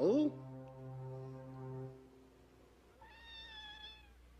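A cat meows twice, a loud, low, drawn-out cry and then a thinner, higher meow after a pause, both close and clear against a quiet background.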